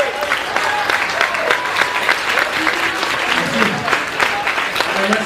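Audience at a kickboxing belt event in Nice gives loud, steady applause for an injured fighter, a dense continuous clatter of clapping with crowd noise throughout.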